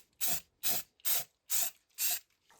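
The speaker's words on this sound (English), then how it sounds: "We're going to spray paint this black" Five short bursts of black spray paint hissing from an aerosol can in an even rhythm, each about a third of a second long, close and clear with silence between.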